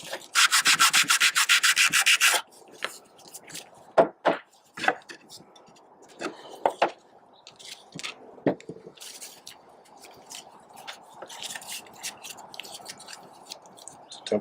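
A fiberglass gutter end cap is sanded by hand in a long, dense scrubbing burst at first, then in shorter, scattered rubbing strokes close to the mic, with no talk.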